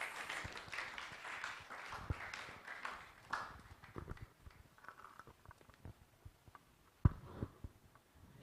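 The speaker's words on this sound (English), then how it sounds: "Let's give him a round of applause." A scattered round of applause at an annual performance review meeting, with uneven individual claps and taps that start moderately and thin out into sparse, isolated hand claps over several seconds.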